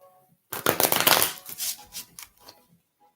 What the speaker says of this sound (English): I'm going to shuffle the cards and then I'll answer your question.